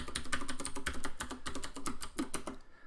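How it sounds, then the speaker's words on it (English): A password is typed on a computer keyboard in a quick, uneven burst of close, crisp key clicks that run for a few seconds and then stop. "it usually helps if you can type your password."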